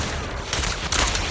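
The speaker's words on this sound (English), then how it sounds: "Watch out for Grim Vulture taking shots from afar." Enemy gunfire from a distant sniper-type foe in the action video game Zenless Zone Zero, a short burst of rapid sharp shots over busy game sound, loudest in two quick bursts near the end.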